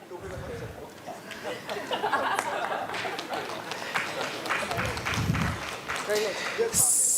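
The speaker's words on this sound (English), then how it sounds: "Please give a big round of applause." Scattered applause from a conference audience at a national conclave on natural farming, a moderate, somewhat distant wash of clapping mixed with background chatter and movement.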